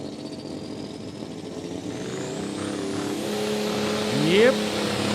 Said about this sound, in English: I believe that's an alcohol running diesel engine.